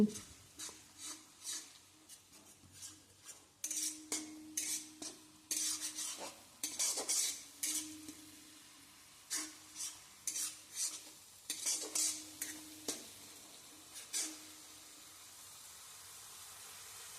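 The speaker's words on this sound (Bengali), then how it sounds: "এরপর সবটা একসাথে ভালোভাবে তেলের মধ্যে আমি নাড়াচাড়া করে ভেজে নিচ্ছি" Ground onion paste fries in oil for egg korma while a metal spoon repeatedly scrapes and knocks against the pan. The strokes come in irregular bursts over a faint sizzle, close up, with no talking.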